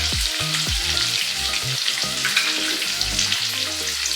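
Finely chopped onion frying in a pan makes a loud, even sizzle that runs throughout, with a soft tonal melody underneath.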